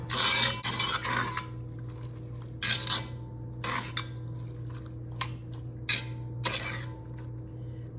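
A spoon scraping across the riveted bottom of a skillet while mixing baked beans, repeated clinking, scraping strokes at an uneven rhythm over a low steady hum, close and clear.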